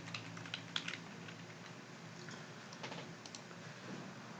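Typing on a computer keyboard, a quick scatter of close clicks and key taps that come in short bursts, fairly quiet and with no voice over it.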